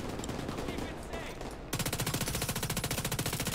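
Rapid automatic gunfire from a gun in The Division 2 video game, a fast even stream of shots that starts midway after mixed game noise and continues loud to the end.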